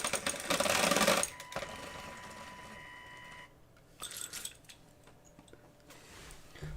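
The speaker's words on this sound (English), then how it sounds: "We have a motor." Small electric motor in a model speeder build whirring loudly in a short rattling burst, then settling into a fainter, steady mechanical ticking and buzzing.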